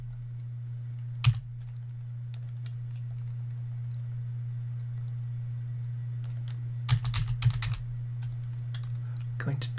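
Computer keyboard typing during data entry in an Access database, appearing as scattered keystroke bursts with a louder cluster near the end, heard over a steady low electrical hum.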